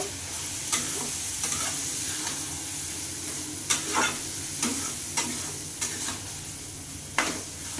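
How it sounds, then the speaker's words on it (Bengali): Rice tossed with spices in a hot pan for a Bengali muri ghonto, a loud, steady sizzle broken by repeated sharp scrapes of the spatula every second or so. "চালটা দিয়ে দিলাম দিয়ে ভালো করে মশলার সঙ্গে কষে নেবো"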